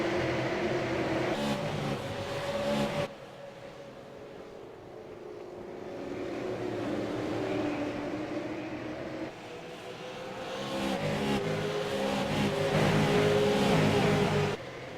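Race cars circling a speedway oval at USA Speedway, engines roaring and rising and falling in pitch as they pass, a continuous loud drone with swelling passes at close to middle distance.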